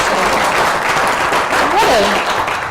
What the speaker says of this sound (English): Let's give Michelle Nunn a big round of applause